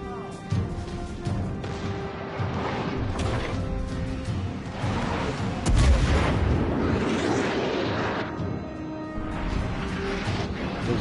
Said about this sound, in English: He got me with his damn torpedoes.